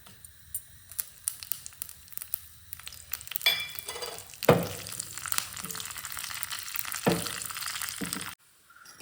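Mustard seeds, dried chillies and curry leaves crackle and sizzle in hot cooking oil for a coconut chutney tempering, a busy spattering hiss with sharp pops and bursts, loud and close, dropping away abruptly near the end.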